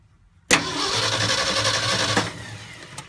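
A Ford F250 engine fitted with a Pertronix Flame Thrower II distributor fires up abruptly and runs loud and steady close by, then drops back to a quieter idle with a few faint clicks near the end.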